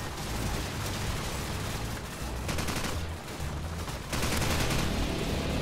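Dense gunfire in Call of Duty 4, a continuous harsh roar of overlapping shots and bursts, loud and close throughout the passage.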